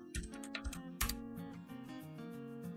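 Rapid keystrokes on a computer keyboard enter a command into a Minecraft server chat, a quick run of crisp, close clicks followed by sparser taps over a steady background tone of game music.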